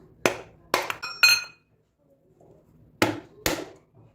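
A fresh coconut struck hard to crack it open in a home kitchen, giving five sharp, close knocks in two bursts, with a quiet pause between them and no talking.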